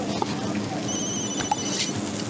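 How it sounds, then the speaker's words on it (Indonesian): In the Food Truck Simulator game, a telephone rings with a thin, repeated electronic trill over background kitchen clatter, while people chat in the room. "Itu bukan telepon kita kan?"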